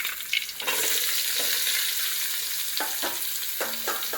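Chopped onions with ginger, garlic and green chilli for a tapioca biryani hit hot oil with a loud, steady hiss that fills the pan, and several short scraping stirs are heard near the end, with no voices.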